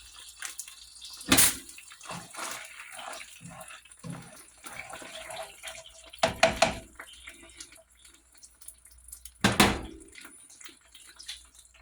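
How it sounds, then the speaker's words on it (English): A tap runs as fingers are rinsed off during ketchup food prep, with three loud bursts of splashing water between quieter drips and small handling clicks nearby. "I rinse my fingers off."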